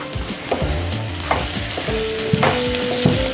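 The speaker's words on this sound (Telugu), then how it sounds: "ఇది కూడా తాలింపుతో పాటు వేగుతుంది" Chana dal frying in tempering oil for a ridge gourd and chana dal curry, with a steady close sizzle broken by scraping stirs and clinks of a spoon against the pan, and no talking.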